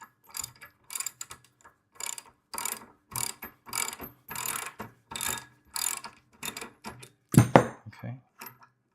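A hand ratchet works an 18 mm bolt loose on the handle of a VEVOR gas plate compactor, giving close, repeated bursts of sharp metallic clicking separated by short pauses.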